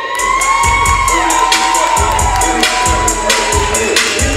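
A crowd cheers and shouts loudly as a person named Dede is introduced at a gathering. Children's high voices stand out over a dense, continuous roar, and dull thumps recur every second or so.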